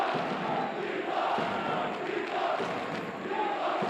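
A large crowd at a Call of Duty League esports tournament roars steadily throughout, a dense continuous wash of cheering and shouting heard at a distance.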